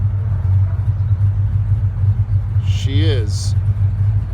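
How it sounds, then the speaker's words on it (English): A 1937 Ford restomod hot rod idles after a cold start on choke, its deep steady rumble holding close and loud throughout, while a person speaks briefly over it near the end. "And now you can hear a little bit of that beautiful hot rod rumble"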